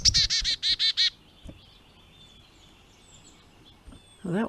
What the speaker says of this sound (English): The chickadee is a diminutive little bird with a tiny beak,